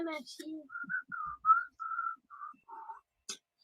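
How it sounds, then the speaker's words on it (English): A person whistles a short melody of about eight clear, sustained notes, close and fairly quiet, with a brief bit of speech at the start. "We're definitely going to have to whistle"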